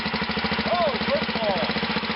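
A wheezy 1941 air compressor engine from Bonneville Dam running at a steady, close, loud chug with even rhythmic pulses, a few brief rising and falling tonal sweeps sounding above it.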